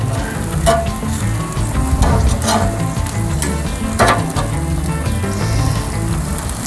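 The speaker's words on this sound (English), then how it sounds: "Got a good sizzle going on there." Chicken wings sizzle steadily on a grill, a dense close crackle with scattered sharper pops and faint clinks of tools, no talking.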